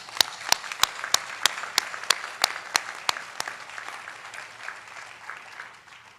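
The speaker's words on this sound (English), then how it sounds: "So let's one more round of applause for thanking both of our student speakers." Applause from the audience at a 2024 Northwestern Health Sciences University commencement ceremony: a soft wash of clapping, with sharp, evenly spaced claps close by for about three seconds before it all tapers away.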